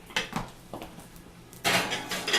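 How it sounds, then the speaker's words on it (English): Covered dish of whole wheat stuffing with turkey sausage slid into an oven, with a few faint metallic clinks and scrapes followed by a louder rack rattle and clatter, close and quiet. "And we put it in the oven."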